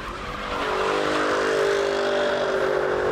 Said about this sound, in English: The exhaust has a distinctive note, which is loud on the outside, but on the inside is actually very livable.